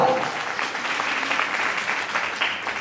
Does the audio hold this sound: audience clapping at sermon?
yes